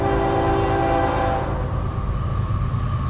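A CSX freight train sounds its horn in a sustained loud blast that cuts off midway, leaving the rumble of the passing train rolling on alone.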